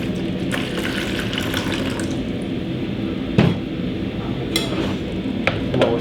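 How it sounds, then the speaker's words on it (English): Warm water poured into a container while preparing silver gelatin dry plates on glass, a close, continuous splashing trickle with a few sharper clinks and drips. "So I'm going to put a little bit of warm water in here."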